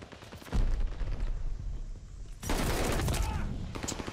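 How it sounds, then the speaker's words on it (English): Grenade blast and gunfire in Call of Duty Vanguard, a booming explosion near the half-second mark followed by sustained loud battle noise and a second heavy burst of fire later. "Let's just chuck a grenade down there."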